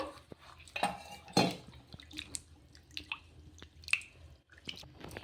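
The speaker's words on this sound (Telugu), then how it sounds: "ఈ ఇడ్లీ రవ్వను కూడా ఒకసారి బాగా కడిగేసుకుందాము" Idli rava being washed in water in a bowl, with drips, splashes and light clinks against the bowl coming in irregular bursts, close and fairly soft, no talking.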